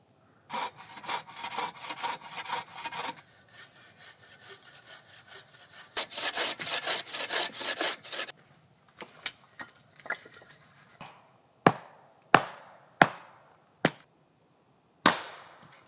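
Firewood for a campfire is sawn with long rhythmic back-and-forth strokes, close and clear, followed by a handful of sharp, well-spaced chopping knocks as pieces are split.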